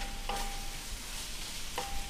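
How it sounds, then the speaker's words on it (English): Worcestershire sauce being stirred into a Salisbury steak mixture in a pan, a steady sizzling hiss broken by two quick scrapes of the spoon, with no talking. "Give it a good stir, a nice stir,"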